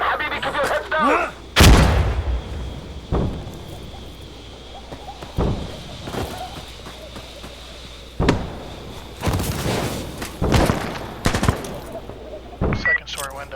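Artillery strike blasts in the video game Insurgency Sandstorm, a series of loud, booming impacts spread across the clip, each with a rumbling tail, with voices calling out between them.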